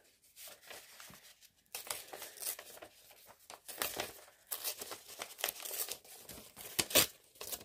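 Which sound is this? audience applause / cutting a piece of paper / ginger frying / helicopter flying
cutting a piece of paper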